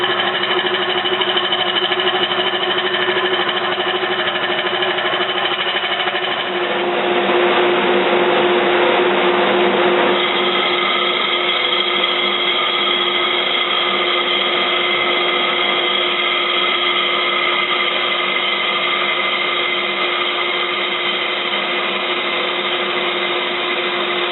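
A lathe runs while turning a block rim, giving a loud, steady motor whine throughout, with a rougher burst of cutting noise partway through before it settles back to an even drone.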